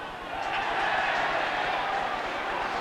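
A rugby crowd at Swansea versus the All Blacks in 1989 roars in a broad, sustained swell of cheering in the final minutes of the match, with a commentator's voice heard over the noise.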